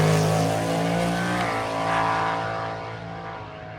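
An old Ford drag car at a Carolina drag cruise event roars down the drag strip, its loud engine droning and sliding downward in pitch as it passes and fades steadily into the distance.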